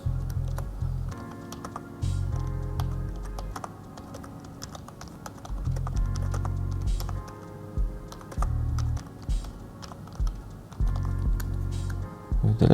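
Computer keyboard typing a question into a Mentimeter presentation: close, steady clicking keystrokes in quick bursts separated by brief pauses, continuing throughout with no talk.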